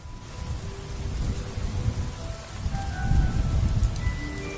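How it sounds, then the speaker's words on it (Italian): Rain and thunder from a Harry Potter recording played back at Hogwarts: steady rainfall on surfaces with low rolling thunder swelling twice, fairly quiet, with faint tonal music notes drifting over it and no talk. "C'è anche la pioggia fuori da Hogwarts."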